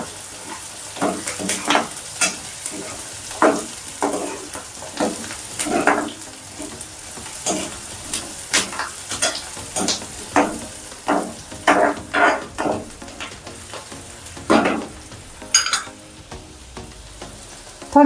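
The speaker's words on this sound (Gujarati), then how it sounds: "એમાં બટાકા એડ કરી દઈશ." Potatoes fry and are stirred in a pan while cooking sabudana khichdi, giving a steady sizzle with frequent scraping stirs and clinks across the whole span, close and moderately loud with no talking.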